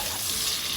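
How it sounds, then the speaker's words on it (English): Onions sizzle in a pan of butter and oil while being stirred, a loud, steady hissing crackle heard alone and close up. "we've got a nice sizzle going with the butter and oil, and just slowly add in the onions"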